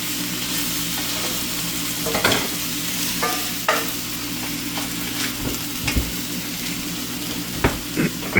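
Bacon frying in a pan, a steady dense sizzle and crackle with occasional sharper pops and spatters, close up and continuous with no talking.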